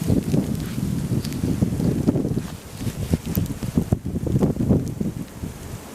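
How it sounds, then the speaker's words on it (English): Strong gusting wind buffets the microphone in a full-blown blizzard during rifle deer season in Pennsylvania, a continuous low roaring rush that swells and dips with the gusts, with no talk. "I'm in a full-blown blizzard right now."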